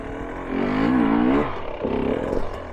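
A hard enduro dirt bike engine revs up, building power before the clutch is let out: a close, loud rising roar with a rippling pitch that swells, drops away, then returns as a second shorter burst.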